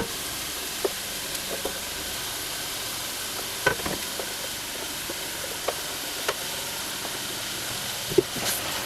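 Vegetables stirred in a pan for peanut butter stew, with soft scattered scrapes and taps of the utensil over a steady faint sizzle and hiss, with no talking.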